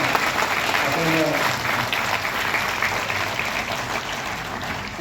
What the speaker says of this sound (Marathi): आपणही सर्वांनी टाळ्या वाजवून एकदा